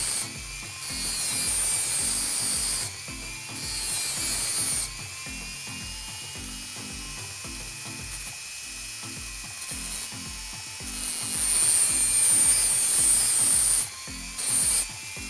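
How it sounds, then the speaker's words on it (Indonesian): A mini grinder works on a water gel blaster motor, giving loud, harsh grinding bursts that start and stop repeatedly over a steady mechanical rattle. "Kemudian saya akan gerinda langsung saja."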